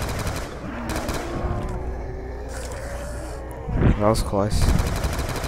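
A Colt M16A1 rifle, upgraded in Call of Duty Black Ops zombies, fires a few scattered shots under game noise, followed by a short louder burst near the end while someone speaks briefly.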